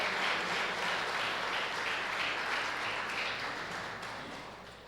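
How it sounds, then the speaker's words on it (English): Ceremony audience at a war survivor remembrance flag raising applauds for a former senator, a steady wash of clapping that stays even for several seconds and gradually fades. "Can we give her a round of applause?"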